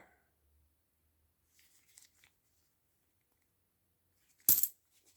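Coins dropping with one sharp metallic clatter near the end, after faint handling and clinking earlier; close and otherwise quiet.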